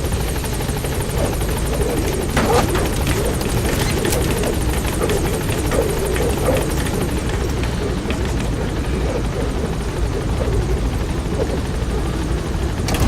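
Helicopter gaining altitude in Metal Gear Solid V: a loud, steady rotor drone with a constant engine roar that holds close and even for the full stretch, with no voices.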